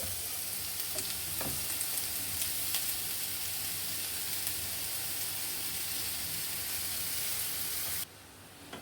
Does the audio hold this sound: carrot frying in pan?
yes